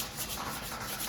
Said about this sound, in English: I'm just taking some 180 grit and kind of sanding them out